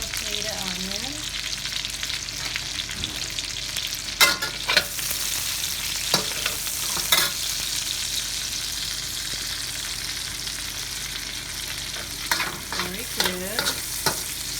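Onions sauté in leftover oil from fried pork and Spam, sizzling steadily up close, with occasional sharp clicks and scrapes from stirring against the pan.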